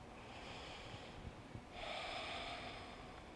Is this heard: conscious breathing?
yes